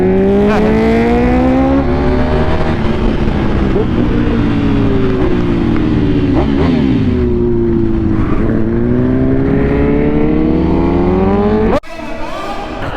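A custom Triumph Rocket 3 motorcycle, with the largest production motorcycle engine, is heard up close while riding, its steady loud drone shifting pitch as it revs up and down, with a sudden cut near the end.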